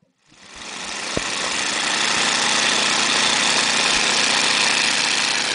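The radial engine of a restored 1943 Stearman biplane swells from quiet to a loud, steady roar as it throttles up for takeoff, heard close from the cockpit with a deep rumbling drone and no talking.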